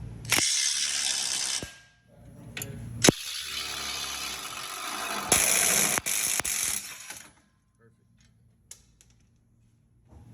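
Ratchet working on the track bar bolt of a 2020 Jeep Wrangler during a 2.5-inch lift install: bursts of fast metallic clicking and rasping, close and fairly loud, with pauses between strokes and a quieter stretch at the end.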